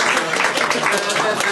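Audience at a live comedy podcast taping bursts into clapping, a dense, close patter of many hands, with a voice talking over it.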